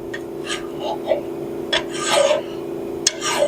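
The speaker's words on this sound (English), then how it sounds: "I went and grabbed a nice flat file." Flat file rasping across a metal snowthrower part, several short scraping strokes at close range with brief pauses between them, fairly loud over a low steady hum.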